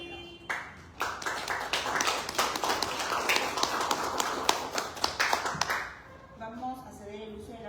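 A strong round of applause from the audience at a book presentation in Tacna, loud and sustained with dense clapping for about five seconds, then fading out as a voice begins to speak.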